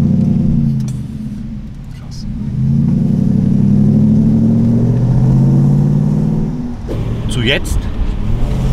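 A Mercedes E500 W124 V8 fitted with a different, street-legal exhaust system rumbles low and steady, rising as the throttle is gently blipped, while someone speaks briefly over it.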